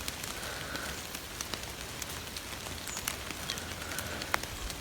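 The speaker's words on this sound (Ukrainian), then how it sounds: "Дощ то йде, то не йде." Steady rain patters on a surface outdoors in Ukraine, a soft continuous hiss with scattered brighter drops and small ticks throughout.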